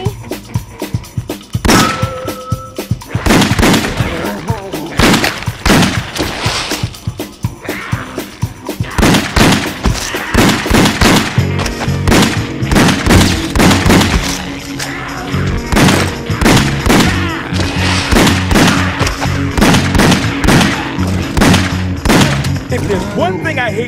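Rapid gunfire rattles through a carnival stage of The House of the Dead Overkill on the Wii: dense bursts of loud, sharp shots with thuds and impacts, nearly continuous, mixed with shouted game voices.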